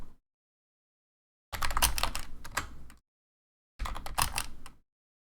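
Computer keyboard keys click in two short bursts of rapid typing separated by silence, close and fairly loud, with no talking.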